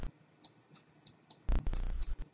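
Computer mouse clicks while editing clips in GoPro Studio, a few scattered soft clicks followed by a louder burst of handling and clicking near the end, close and quiet with no talking.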